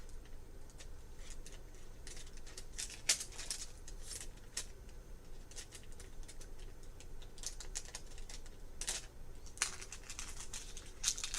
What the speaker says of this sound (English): I'm going to cut this glue dot in half.